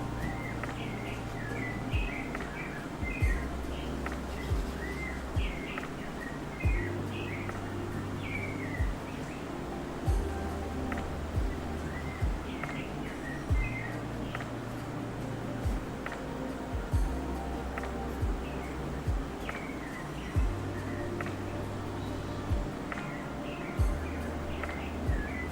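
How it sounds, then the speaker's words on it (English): Birds sing outdoors in short, scattered chirps over a steady background hum and low droning. The calls are faint and distant, recurring every few seconds. "You hear the birds? I don't know if you guys can hear the birds out there."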